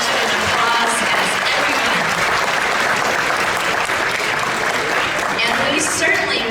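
Loud, sustained applause from a large audience at a student honor string orchestra concert, a thick continuous roar of clapping held at an even level from start to finish, with faint voices mixed in.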